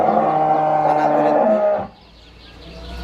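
A dairy cow at a farm lets out a loud, close, sustained moo that ends abruptly partway through, followed by quiet background.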